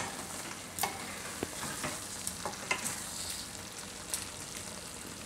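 Spinach and gram flour curry cooks in a pan with a steady soft sizzle, broken by several sharp scraping stirs of a spoon against the pan, close and fairly quiet with no talking.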